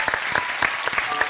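Warm applause from a studio audience for a birdsong imitator on a Swedish entertainment show, a short burst of clapping heard close and steady with no talk over it.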